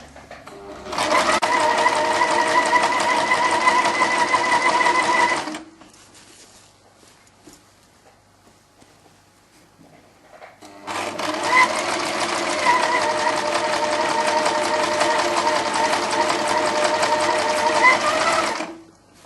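Sewing machine stitching a silk satin sleeve head on a Maxime shirt of silk satin and tulle, running in two long steady bursts of about five and seven seconds with a quiet pause between, no talk.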